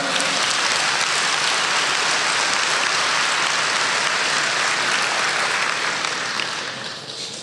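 A church congregation applauding, a continuous dense roar of many hands clapping at close range that holds steady and then fades slightly at the end.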